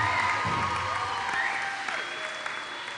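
A graduation audience at a college commencement claps and cheers steadily, with whoops and shouts rising over the dense applause throughout, moderately distant.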